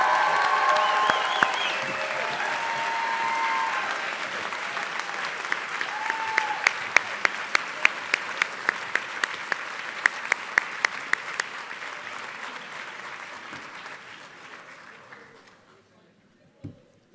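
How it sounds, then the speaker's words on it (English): An audience at a graduate degree ceremony gives the graduates a long round of applause, dense clapping with a few sharp individual claps standing out, gradually thinning and fading over about fifteen seconds in a large hall. "Let's have one more round of applause for our graduates."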